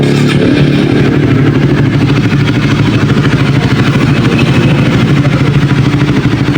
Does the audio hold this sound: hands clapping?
no